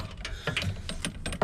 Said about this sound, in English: what I've got here is a 15mm socket on a swivel